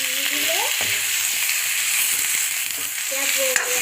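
Pieces of chicken go into a pan of frying spice masala, setting off a steady, loud sizzle with intermittent stirring scrapes, and faint voice-like tones come through at the start and end.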